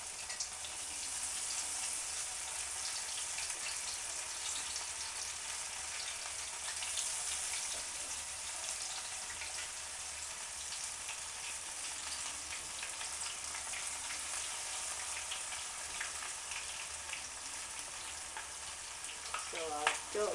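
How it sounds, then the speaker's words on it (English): Battered onion rings fry in hot fat, a steady, bright crackling sizzle running continuously at moderate level, with a faint voice in the background and a few sharper pops near the end. "just going to dip the onions in, one at a time, and drop them into the fat"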